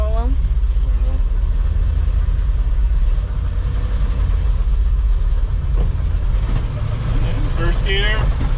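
A 1957 Chevrolet Bel Air out on the road, with a steady low engine rumble and road noise from inside the car while people talk over it.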